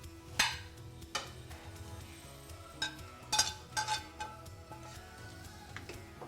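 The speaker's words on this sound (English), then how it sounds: "And now I'm ready to add beans into it and mix it." Navy beans being stirred into a pan mixture with a utensil, a series of sparse, soft clinks and taps against the pan with quiet gaps and faint kitchen background.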